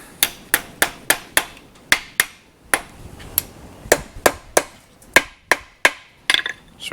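Hammer forging a Gunter chain link on an anvil at a blacksmith's forge, a run of sharp ringing metallic strikes in an uneven rhythm, about twenty blows, close and loud with no talk.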